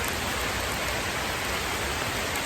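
Steady rain falls on a rural property, a dense, even hiss of drops without breaks, close and continuous with no voices.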